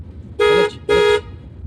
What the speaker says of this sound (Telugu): హార్న్ కొట్టండి